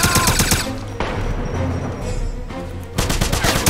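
Rapid automatic gunfire in the Wolfenstein video game, loud bursts of shots with short pauses between volleys, close and dense.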